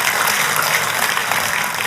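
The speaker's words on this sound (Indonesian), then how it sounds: "kalau tepuk tangan yang meriah saudaraku." Congregation applauding during an Indonesian church sermon, a dense, continuous wash of clapping that stays even and fairly loud throughout the brief moment.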